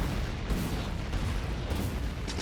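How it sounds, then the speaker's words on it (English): Grenade blasts rumble in Factorio with the Krastorio2 mod, two or three muffled booms landing close together within a steady roar of noise. "I can kill rocks with grenades."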